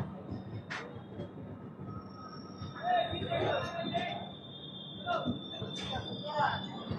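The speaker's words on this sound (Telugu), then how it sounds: "మన జన్మభూమి వచ్చేసరికి నల్గొండ స్టేషన్కి అయితే చేరుకుంది." The Janmabhoomi Superfast Express pulls into Nalgonda station with faint rumbling and occasional wheel squeals and clanks, while people talk in the background throughout.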